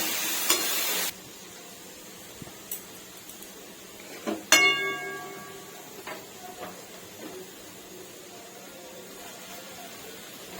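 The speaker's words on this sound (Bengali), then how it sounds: "এটাকে এবার আমি নাড়তে থাকবো।" Vegetables for mixed fried rice with vinegar, pepper and sugar stirred in a pan: a brief loud hiss at the start, then quiet scraping and a few sharp metal clinks against the pan, with scattered taps.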